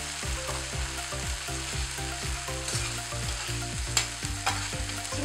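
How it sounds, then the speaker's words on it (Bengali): Masala for moong dal ghonto frying in a pan while being stirred continuously: a constant close sizzle with a brisk, repeated rhythm of scraping spoon strokes and an occasional sharper clink, no talking. "আমি মশলাটাকে দিয়ে আমি কষাটা বাড়িয়ে একটু কন্টিনিউয়াসলি নাড়াতে যাতে নিচে না লেগে যায় মশলাটা"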